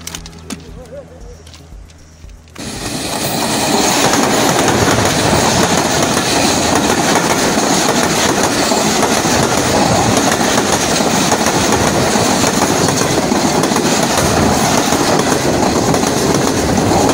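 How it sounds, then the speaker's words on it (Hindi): A train rolls close by overhead with a loud, steady rumble and rhythmic clickety-clack that fills the clip after a few quieter seconds with faint voices. "वो ट्रेन आ रही है यार"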